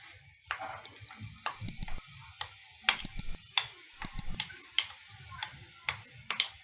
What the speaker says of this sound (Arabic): هننزل البصل.